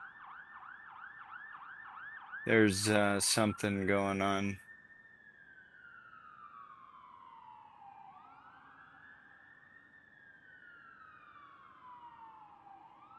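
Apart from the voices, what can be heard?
emergency vehicle siren passing outside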